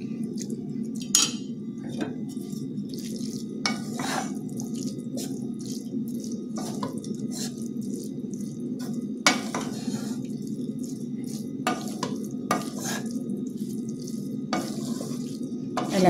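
Rice mixed with a tuna blend in a pot: close metallic scrapes and clinks from stirring over a steady low hum, with occasional wet dabs and knocks, no talk.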